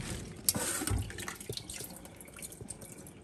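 Water from a pot of freshly harvested hibiscus flowers drains out in a steady, close splashing pour with a few sharp drips, faint and without talk, while the hibiscus tea is being made.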